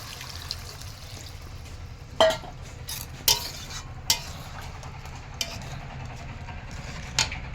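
Utensils clink sharply against a pan as rui fish is lifted out of curry, four or five distinct metallic taps spaced over a low, steady background hum.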